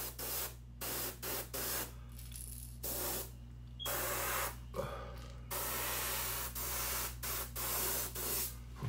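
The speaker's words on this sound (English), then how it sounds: "Apologize about the compressor." An air compressor runs in a workshop where a sponge craw fishing lure is being painted, producing a steady hiss broken by repeated on-off bursts, like an airbrush spraying.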